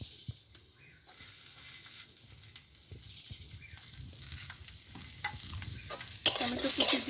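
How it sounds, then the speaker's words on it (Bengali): Chopped tomatoes stirred into hot oil in a pan, a soft hiss swelling to a louder sizzle with scattered spatula scrapes and taps, close and alone, brightest near the end. "টমেটো কুচি দিয়ে আমি হালকা নেড়ে নেব।"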